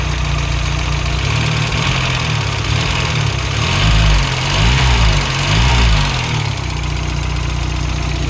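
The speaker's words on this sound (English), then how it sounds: "Engine running. Give a little bit of beans." A 1990 Volkswagen Mk2 Golf GL petrol engine idles steadily, then gets a few blips of throttle that raise the revs in swells before it settles back to idle, close and loud with no talking.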